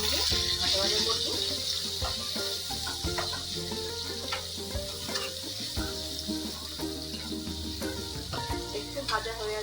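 Achari chillies and onions frying in a pan, a continuous bright sizzle of hot oil with clinks and scrapes of a spatula stirring, moderately loud and close, with occasional faint sounds in the background.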